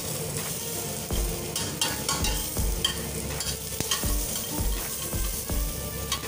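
Spices frying in a small amount of oil in a pan, a steady close sizzle broken by regular scraping and stirring strokes of a utensil, with no voices.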